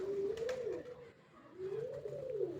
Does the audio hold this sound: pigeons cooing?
yes